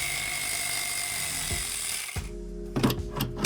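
A cordless power tool whirring as it works a nut loose on a Jeep YJ, a steady close motor drone that cuts off, followed by a few short bursts of trigger pulls.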